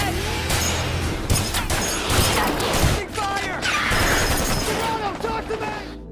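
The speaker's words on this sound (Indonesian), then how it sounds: "tembak-tembakan terhadap makhluk yang sangat cepat itu pun terjadi" Chaotic bursts of loud gunfire from soldiers firing at a very fast creature, mixed with crashes and impacts, dense and continuous, with shouting or voices layered in the din.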